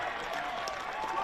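A dense crowd roars in cheers and applause at a VFL football match between Coburg and Richmond after a set-shot goal. The noise is a steady, broad wash of sound held at an even level throughout.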